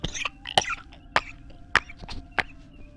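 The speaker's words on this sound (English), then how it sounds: "Had to cough up some phlegm." A person coughs up phlegm in four or five short, sharp bursts spaced about half a second apart, close and fairly loud over a steady low electronic hum.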